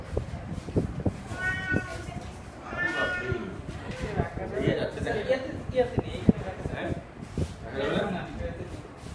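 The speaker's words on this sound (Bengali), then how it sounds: "ওখানে আরেকটা বিড়াল আছে," A cat meows a few times at a pet clinic amid people talking nearby, the cries rising above the voices at intervals.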